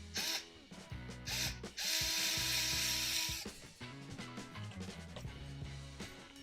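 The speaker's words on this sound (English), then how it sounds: "As we tighten these screws, it'll compress the springs and pull the pickup higher." A ratcheting screwdriver clicks rapidly while tightening screws on a 3D printed guitar core, compressing springs under a pickup, the close mechanical ratchet chatter running in bursts with a brief whirring stretch in the middle.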